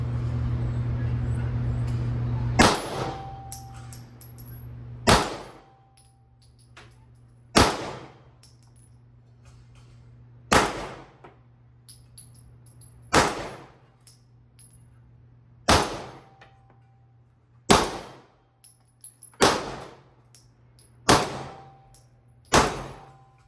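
Roughly ten sharp gunshots ring out at a shooting range, spaced a few seconds apart, each with a short metallic ring as steel targets are struck; a steady low hum fills the opening seconds before the shooting starts.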